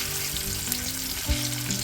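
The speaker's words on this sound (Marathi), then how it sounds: "आपण इथे या तव्यावरती आहे ना कढीपत्त्याची फोडणी दिली" Fish sizzle on a griddle in a village-style fry with a curry leaf tempering, making a steady close hiss and spatter and one brief low knock near the end, with no talking.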